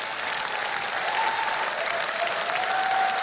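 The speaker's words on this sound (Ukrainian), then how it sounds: "Зал аплодує вам стоячи." A theatre audience at the Ukraine's Got Talent semi-final rises in a standing ovation, and dense, steady applause mixed with crowd cheering fills the hall continuously at full strength.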